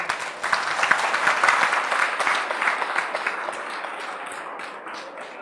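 An audience at a health talk breaks into applause, a dense burst of many hands clapping that swells early and then gradually thins and softens toward the end, with no talking over it.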